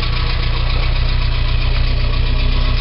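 A Chrysler 1307 car engine idles smoothly and steadily up close, with a loud, even low rumble and a regular pulsing throb and no break in the sound.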